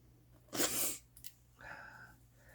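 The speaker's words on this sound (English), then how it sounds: "Sniffles all of a sudden." A single loud, breathy sniff or snort close by, followed a moment later by a softer, shorter nasal sniffle.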